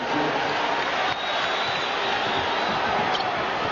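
A dense arena crowd roars continuously at the Delta Center during Game 1 of the 1998 NBA Finals, Utah Jazz versus Chicago Bulls, a loud sustained wash of cheering with no clear breaks.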